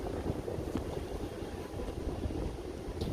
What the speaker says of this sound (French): Un vent glaçant.